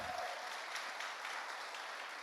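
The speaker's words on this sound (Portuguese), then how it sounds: "Glória a Deus, aplauda Jesus" A church congregation claps in praise at the opening of a worship service, a continuous, fairly soft patter of many hands heard from a distance.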